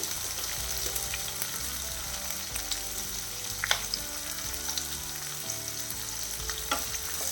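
Dried red chillies fry in oil with sweet potato, a strong steady sizzle and crackle with intermittent stirring scrapes and clinks, close up and with no voices.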